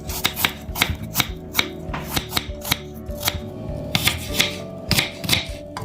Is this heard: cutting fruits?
yes